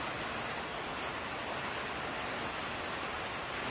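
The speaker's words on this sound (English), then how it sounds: "It's raining." Steady, dense rain falling outdoors in Australia, heard as an even, close wash of hissing noise that fills the whole clip without pause or voices.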